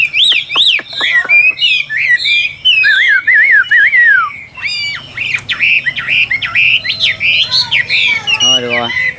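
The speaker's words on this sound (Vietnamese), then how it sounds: "Những mỏ như này là mỏ hót rất tốt này các bác." A Chinese hwamei songbird sings loudly and close, pouring out rapid varied whistles, squawky chirps and trilled phrases almost without pause, ending in a fast descending rattle.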